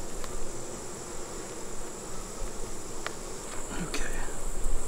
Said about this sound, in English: we have a lot of bees going in here to see the queen